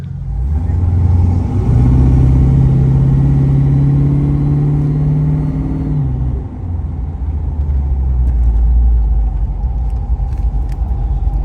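Ford Mustang muscle car headed to the Long Beach Grand Prix, its engine giving a loud, deep, steady rumble from close by that eases off after several seconds and then settles back into a low drone, with no voices over it.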